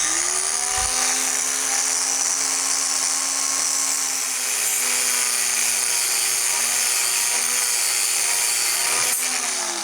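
A rotary tool fitted with a masonry blade spinning up to 30,000 RPM cuts grout between tiles, a steady high-pitched whine holding nearly ten seconds, loud and close with no talking.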